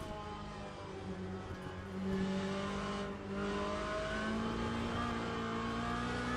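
A GT3 race car in the Le Mans Ultimate sim drives the bumpy Sebring circuit, its engine droning steadily with rising and shifting harmonic tones as it accelerates, loud and continuous with no talk.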